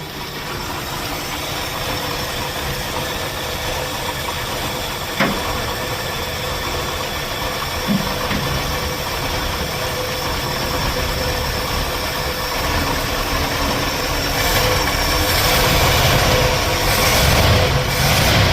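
A junkyard Ford Thunderbird engine idles roughly with a dead miss, a steady, close, continuous rumble with a faint uneven stumble and a couple of small clicks, no talking.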